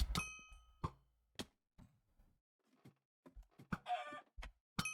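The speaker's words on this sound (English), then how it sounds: "you tried placing a chicken" Sharp, separate chicken clucks from a Minecraft Hypixel BedWars match, several short bursts in an uneven rhythm with quiet gaps between them, moderately loud and close.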